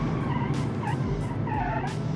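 Tires skid and squeal with a locked front wheel in a sport family hatchback racing game, a steady engine drone running under repeated bursts of scrubbing screech.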